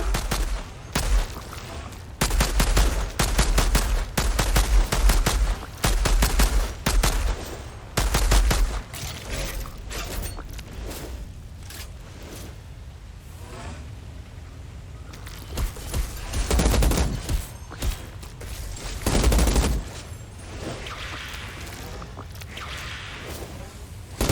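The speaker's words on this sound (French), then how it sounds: "Tu peux essayer ton arme de poing maintenant." A handgun is fired repeatedly in the Outriders video game, with sharp cracks in rapid bursts and runs of shots separated by pauses. Quieter stretches of game sound fill the gaps.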